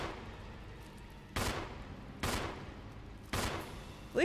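Gunfire aimed at a shark in a Resident Evil video game: three sharp, evenly spaced shots about a second apart, fairly faint against a quiet underwater-like background.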